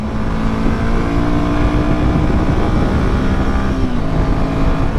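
A loud, sustained engine roar with a steady drone from a Royal Enfield Himalayan 450 motorcycle running under acceleration, close by and continuous throughout.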